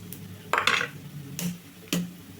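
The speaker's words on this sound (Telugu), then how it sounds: "ఇప్పుడు ఎగ్నైతే కొట్టేసుకుందాము" Eggs are cracked against a pan coated with onion paste: a few sharp taps and cracks spaced apart, close by, over a quiet background.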